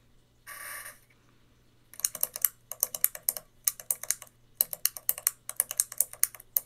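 Rapid typing on a computer keyboard, a burst of dense clicking followed by several bursts of quick, close key clatter separated by short pauses, with no talk.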